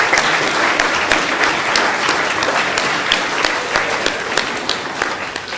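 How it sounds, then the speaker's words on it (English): An outdoor audience at Kaysville's sesquicentennial celebration breaks into sustained, dense applause, many hands clapping close and loud before easing slightly toward the end. "Let's give a round of applause to all those who put their effort into this."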